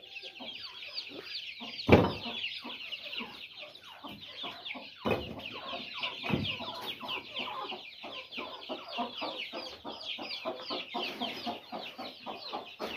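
A hen clucks repeatedly in a farmyard with pet ducks nearby, a dense run of close, rapid clucks and squawks with a few louder bursts throughout.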